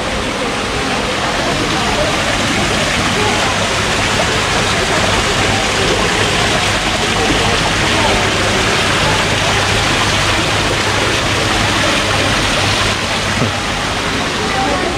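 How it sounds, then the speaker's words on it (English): A small waterfall splashing steadily in a desert garden full of butterflies, a dense, even rush of water that stays loud and unbroken for the whole stretch, with no voices in it. "It's a little waterfall."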